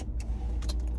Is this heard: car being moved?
yes